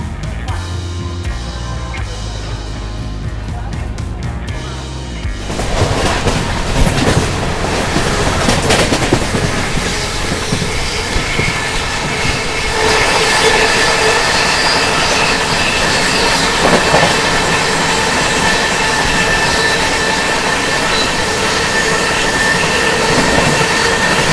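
The Delhi–Mumbai Duronto Express, train 22210, runs on rails out of Nizamuddin, with a loud, continuous rolling roar, clattering wheels and occasional squeals that swell after a quieter start.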